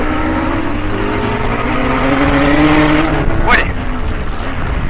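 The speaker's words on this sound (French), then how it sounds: "là on a un moteur, un buggy bleu. Le 6 avec un bruit quand même assez extraordinaire" Loud engine roar of a blue number 6 racing buggy at the Antoing Cross Festival 2015 super final, rising in pitch, a vehicle sweeping past near the end, with crowd or track noise underneath.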